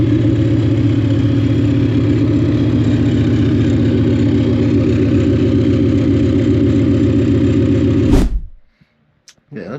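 An engine idles loud and steady through wide-open headers with a deep, lumpy exhaust pulse, then cuts off abruptly near the end, leaving near silence.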